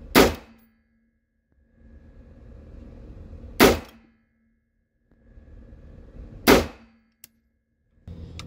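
Three loud, sharp 5.56 rifle shots ring out at an outdoor shooting range, fired from a standing position. They come about three seconds apart, each with a brief metallic clang, and low background rumble fills the pauses.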